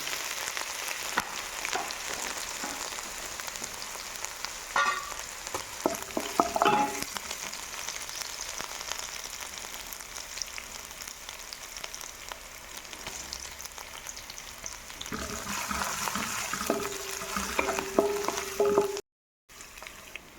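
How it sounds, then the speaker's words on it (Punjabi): Garlic and ginger fry in oil in a village-style home kitchen. The pan gives a continuous crackling sizzle up close, with occasional stirring scrapes, and the sizzle swells toward the end. "ਲਸਣ ਤੇ ਅਦਰਕ ਜਿਹੜਾ ਆਪਾਂ ਪਹਿਲਾਂ ਪਾ ਦਾਂਗੇ ਦੋ ਮਿੰਟ ਇਹਨੂੰ ਭੁੰਨ ਲਵਾਂਗੇ"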